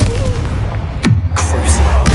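Confringo blasting-spell explosion in Hogwarts Legacy on PS5, a sharp descending whoosh followed by a deep boom and rumble amid other loud spell and combat noise.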